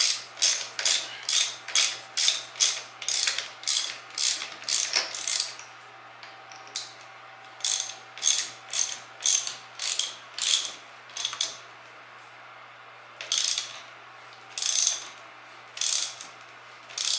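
A hand ratchet clicks in rapid bursts while tightening handlebar riser bolts on a 2019 Suzuki Hayabusa motorcycle, crisp close metallic ratcheting in repeated strokes separated by short pauses.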